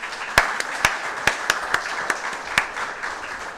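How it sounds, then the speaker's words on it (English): Scattered claps from an oncology nursing conference audience, roughly eight sharp hand claps at uneven intervals over a low room murmur, fairly close and distinct. "can I have some 5-6 claps?"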